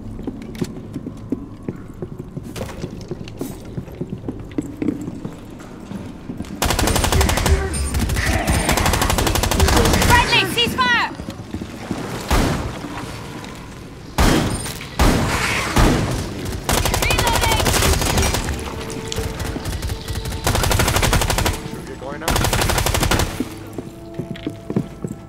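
Rapid bursts of machine gun fire in a combat video game, loud and close, coming in several long volleys separated by brief pauses, with explosions and faint voices mixed in.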